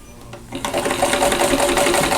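Sewing machine stitching a seam on a Lover's Lane quilt block: a brief lead-in, then the motor runs up into a steady, loud, fast whirring stitch rhythm for the rest of the clip.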